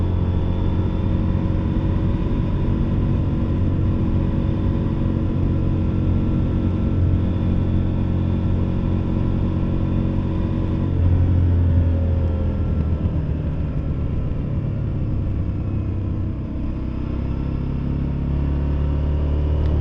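Husqvarna Norden 901 motorcycle engine droning steadily through an S-turn under light front braking, loud and close with a constant rumble that shifts pitch slightly later, no talk.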